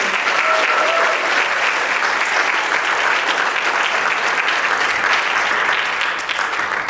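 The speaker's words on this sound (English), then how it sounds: "So can we get a round of applause for Xavier?" An audience at a Northwest Local School District event breaks into loud, sustained applause, dense clapping from a large crowd that fills the room for the full seven seconds with no break.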